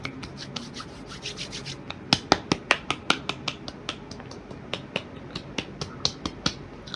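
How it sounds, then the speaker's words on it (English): Hand sounds close on a new ASMR microphone: a series of sharp snaps and rubbing strokes, roughly evenly spaced and crisp, over faint soft rustling with no voice. "And we got hand sounds."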